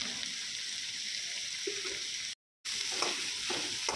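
Chopped onion sautés in a pan with a continuous bright hiss and a few soft stirring touches near the end. The sound cuts out to silence for a moment partway through.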